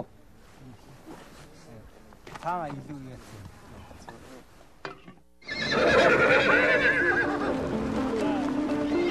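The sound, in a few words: horse neighing in Mongolia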